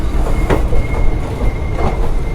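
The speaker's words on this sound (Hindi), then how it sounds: "फिलहाल में हमारी ट्रेन भटिंडा के आउटर पे है और धीरे धीरे स्टेशन की ओर बढ़ रही है।" An Indian Railways Jammu Tawi–Jodhpur express (19226) rolls slowly on the outer approach to Bathinda Junction, giving a steady, close rumble of wheels and carriages with faint clatter and a thin high squeal.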